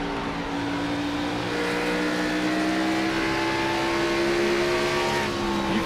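Stock cars roar around Bristol in an Xfinity Series racing game, a loud continuous engine drone with steady high-revving tones sustained throughout, no voices.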